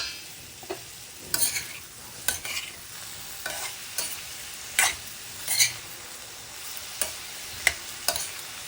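A spoon scrapes and stirs through bottle gourd curry in a pan, with irregular clinks and scrapes over a soft, steady sizzle; no one speaks.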